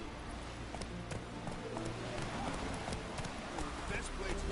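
Roach the horse gallops in The Witcher 3, steady hoofbeats thudding in a quick rhythm beneath a constant wash of in-game ambience.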